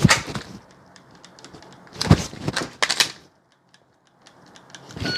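A Glock 17 fitted with a Holosun 507C red dot and Streamlight TLR-1 HL light, dry fired in practice, gives sharp mechanical clicks in a couple of clusters with near-silent gaps between them.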